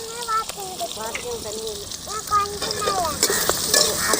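Onions sautéing in a pan give a steady, hissing sizzle with stirring scrapes, close and fairly loud, while a voice talks over it throughout.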